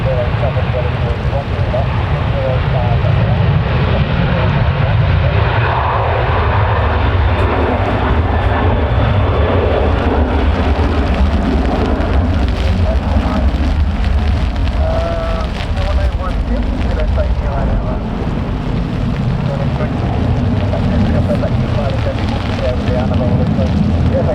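A Ryanair jet airliner takes off from Manchester Airport during Storm Claudia, a broad sustained roar of engines mixed with wind and rain noise, loud and steady for the full span, with faint radio chatter beneath.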